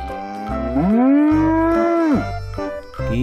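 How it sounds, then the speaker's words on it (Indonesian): A grey Limousin sacrificial cow being loaded onto a truck gives one long, loud, close moo that rises and holds before dropping off, set against a low rhythmic background. "Yang ini warna abu-abu sapi limosinnya."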